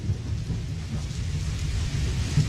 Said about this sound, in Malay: datang lagi hujan selebat-lebatnya Casey